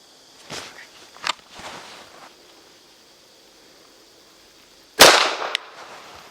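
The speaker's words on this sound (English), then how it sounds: "I've got 3 rounds loaded into the pistol. I have a tack in the target. I'm set up at a distance of 7 yards." Three pistol shots are fired at a target from 7 yards on an outdoor range while testing an OSight K red dot. Two come in quick succession, then a long pause before a louder final crack.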